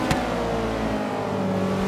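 Motorcycle engine in the Forza Horizon video game, revving loudly and steadily with a sharp downshift blip near the start, heard alone at close range.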